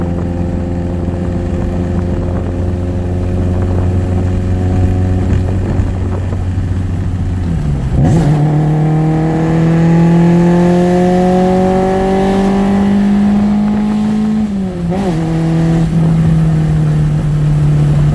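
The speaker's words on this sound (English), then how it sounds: "This is going to be a drop from 5th gear to 3rd gear." Honda CRX with a D16Z6 head on a ZC block, naturally aspirated, revving hard before a sharp drop from fifth to third gear; the engine note dips at the shift then climbs again under loud, steady acceleration, with a brief lift near the end.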